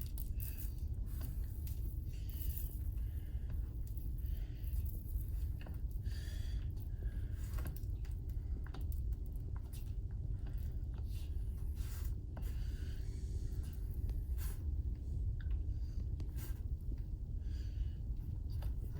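A roller spreads Ekopel coating across a countertop, making a continuous wet rubbing and rolling sound with repeated strokes over a steady low background noise. No one speaks.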